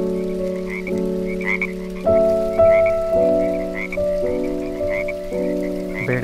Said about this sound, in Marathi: बेडकांचा डराव डराव तर खूपच ऐकू येत आहे.